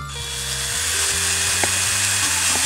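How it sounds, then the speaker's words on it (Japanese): A small drill whines continuously at close range, deburring the inside of a cut pipe, its pitch shifting slightly as it grinds against metal. "だからそれをねちょっとこのドリルでね落としてます"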